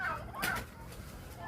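Turkeys at a farm during feeding time give a brief gobbling call and a few clucks, close by and fairly loud, with farmyard background noise throughout.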